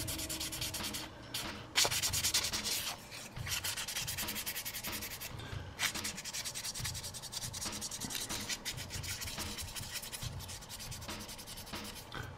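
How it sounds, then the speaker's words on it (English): Light sanding with 400 grit sandpaper on a resin garage kit model: continuous close, raspy scraping strokes in a quick even rhythm, with one brief louder scuff, no talking. "Hit it with a light 400 grit."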